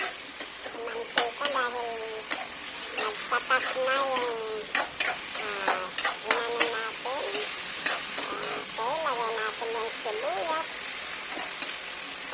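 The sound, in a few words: pork sautéing and stirring in a pan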